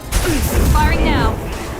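Weapon fire in a video game: a loud burst of gunfire-like booms with whooshing sweeps, dense and close, while a voice speaks briefly over it.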